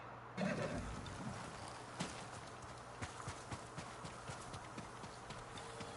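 Horse hooves clip-clop at a steady walking pace in the video game Ghost of Tsushima, crisp and evenly spaced over a low, continuous ambient hum.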